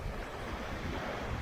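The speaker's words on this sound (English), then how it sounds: "Very, very windy. As you can see behind me. But the sea is pretty rough." Strong wind buffets the microphone on a Scottish west coast beach while rough sea waves surge and crash nearby, a loud, continuous roaring wash with no voices.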